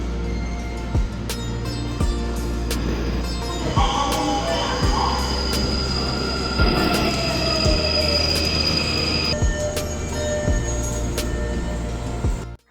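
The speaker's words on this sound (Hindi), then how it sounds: "क्योंकि एक के बाद एक ट्रेन तो यहाँ से गुजर ही रही होती है" Subway trains roll through an underground station in Korea, a loud steady rumble with rhythmic wheel clacks over rail joints and a long high-pitched squeal of wheels on the track.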